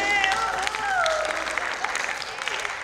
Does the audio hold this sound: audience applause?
yes